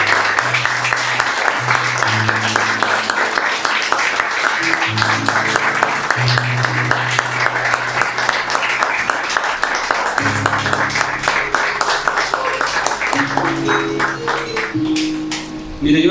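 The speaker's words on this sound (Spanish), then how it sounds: "¿Qué le parece si le damos un fuerte aplauso a Dios agradeciéndole?" A church congregation applauds during a worship service, a dense, steady wash of clapping that runs the whole time, loud and close, over sustained low organ or keyboard notes.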